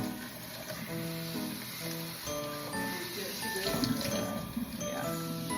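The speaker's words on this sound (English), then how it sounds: "He's kind of about to run the sink." Water runs steadily from a sink tap while a dog is washed, a soft continuous splashing rush beneath close, quiet talk.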